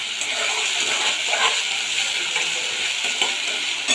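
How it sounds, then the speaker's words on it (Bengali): Garlic and chili paste frying with onions in a pan, a continuous bright sizzle with small crackles and stirring scrapes throughout. "দিয়ে ভালোভাবে এই রসুন লঙ্কাটাকে কষিয়ে নেব পেঁয়াজের সাথে"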